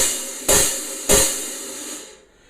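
Two washy, sizzling half-open hi-hat hits struck with the middle of the stick, a little over half a second apart, each ringing out in a long hissy decay before fading.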